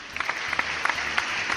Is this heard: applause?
yes